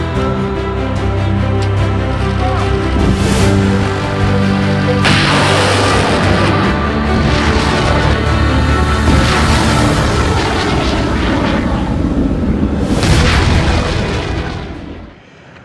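Naval guns fire from a Korean warship, heavy booming blasts with long reverberating rumbles. The shots come in spaced bursts over a dense, loud background, and one sharp report near the end is followed by a fade.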